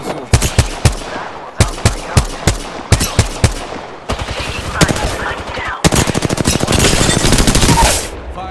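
Gunfire in Apex Legends rattles out in loud, close bursts: separate spaced shots first, then rapid automatic fire, with a dense sustained burst near the end.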